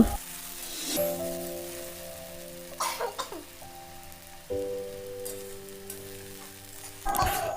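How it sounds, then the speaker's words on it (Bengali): Bay leaves and dried red chillies are tempered in hot oil for a masoor dal and potato dish, with short bursts of sputtering crackle over sustained tonal music. "এবার ওই তেলে 2টি তেজপাতা ও 2টি শুকনো লঙ্কা ফোড়ন দিয়ে দেব।"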